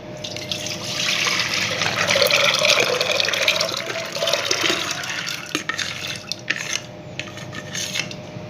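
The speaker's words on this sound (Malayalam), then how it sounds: "കടല നല്ല പൊങ്ങി നിൽക്കുന്ന രീതിയിൽ ഇതിൽ വെള്ളം ഒഴിച്ചിട്ടുണ്ട്" Water pours into a pressure cooker over soaked chickpeas, a steady splashing rush that swells and then breaks into drips and small clatters of the pot near the end.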